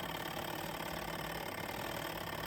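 A SUPER DEAL small portable twin-tub washing machine runs with a steady mechanical hum, though its drum fails to turn the clothes; the drone is continuous and fairly close, with no talking.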